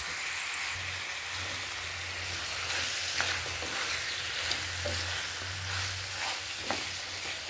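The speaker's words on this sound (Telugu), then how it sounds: "ఇది ఒక 10 minutes ఫ్రై అవ్వాలండి, కొంచెం మీడియం ఫ్లేమ్లో." Chicken frying over a medium flame, seasoned with turmeric and salt, gives a steady dense sizzle through the whole stretch, with a few light stirring scrapes and taps rising above it; no one speaks.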